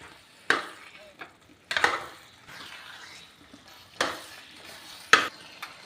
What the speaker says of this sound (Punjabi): ਸਾਰੀ ਸਬਜ਼ੀ ਦੇ ਵਿੱਚ ਚੰਗੀ ਤਰ੍ਹਾਂ ਕਰ ਦਾਂਗੇ ਮਿਕਸ ਧਨੀਆ ਨੂੰ